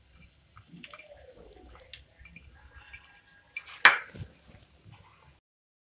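Bitter gourd masala being mixed with oil and crushed peanut powder in a kitchen bowl, with soft scraping and clinking of a spoon against the dish, a few taps and one sharper clink midway.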